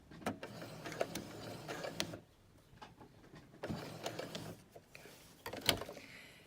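A home sewing machine backstitches on a duvet in short, quiet mechanical bursts of rattling stitches, broken by brief pauses and soft handling of fabric.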